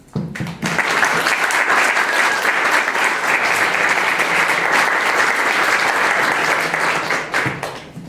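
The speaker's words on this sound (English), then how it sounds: "A round of applause for Anna." Sustained audience applause, dense and steady clapping from a crowd filling the whole stretch, tapering slightly at the end.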